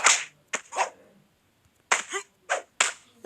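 Sharp punching and kicking impact effects from the fighting video game Shadow Fight 2, a fast cluster of loud smacks, a short pause, then several more hits in quick succession, with no talking.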